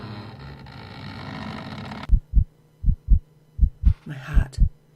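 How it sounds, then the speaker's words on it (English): Heartbeat sound effect in a tense horror visual novel set around the lost Roanoke colony: after a low rumbling drone cuts off, a series of deep, thumping paired beats sound up close, alone and fairly loud, quickening slightly. "My heart beats faster."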